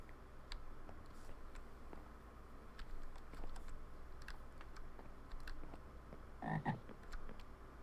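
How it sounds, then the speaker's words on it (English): A frog croaks in a Minecraft-style game, a short cluster of croaks near the end among faint ticking game sounds, with no talking. "Where is that frog?"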